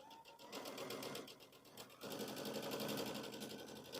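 Sewing machine stitching steadily around a spooky kids' door hanger, a dense rapid mechanical chatter running near and loud with a brief pause midway before the stitching resumes.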